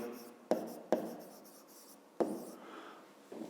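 Pen writing out a math solution on paper, quiet scratching strokes with a few sharp taps as the pen touches down, close and soft in a still room.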